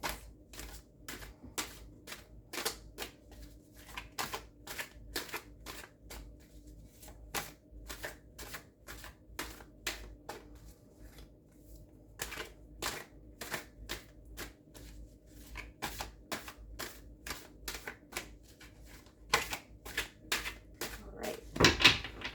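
A tarot deck being shuffled over and over, crisp riffling bursts and soft slaps repeating in quick succession, close up, with no talking.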